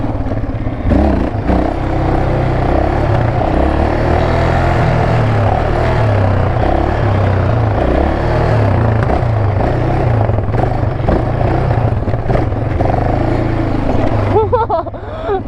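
Honda 150 dirt bike engine revving hard during power wheelies, a loud continuous roar with rising and falling throttle surges close by, lasting throughout with occasional clatter.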